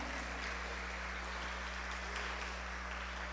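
A church congregation claps in praise during a Bible teaching session, producing dense continuous applause that stays even and sustained throughout, slightly distant and muffled with a low background hum.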